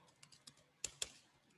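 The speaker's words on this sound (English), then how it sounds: "See how I am typing the double quote." Several light, irregular keystrokes tap on a computer keyboard while a double quote is typed, with two sharper clicks standing out, close and fairly quiet.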